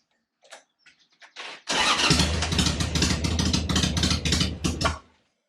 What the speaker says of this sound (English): we'll end the video with the bike starting